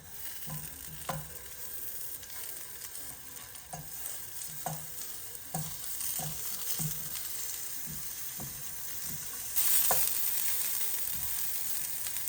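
Courgette fries in a little olive oil in a pan, a soft continuous sizzle with repeated light scrapes and taps of a utensil turning the slices, growing slightly louder near the end.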